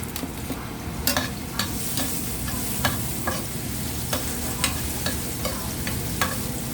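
Lots of garlic sautéing for a bottle gourd and ground pork dish, a continuous loud sizzle broken by regular sharp clicks of a utensil against the pan, with no talking.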